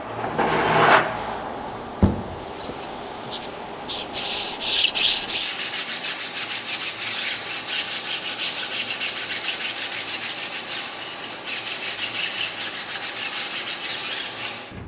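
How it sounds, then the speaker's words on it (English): Close, steady scraping of sandpaper lightly sanding small wooden checker pieces, continuous back-and-forth strokes that carry on loudly for the whole stretch. "I'm going to take these out and do a light sanding."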